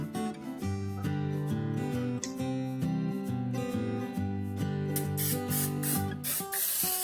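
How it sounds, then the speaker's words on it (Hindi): Cooking oil is sprayed onto a cupcake dish in a kitchen, a few short hissing bursts near the end over steady background music. "कपकेक डिश पे मैं ऑयल स्प्रे कर दूंगी"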